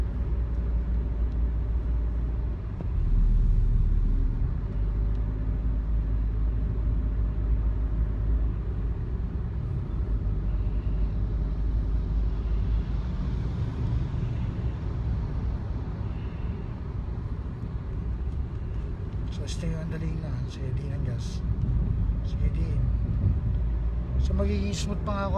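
A car engine runs steadily with a low rumble throughout a driving lesson, heard close from inside the cabin while people talk over it.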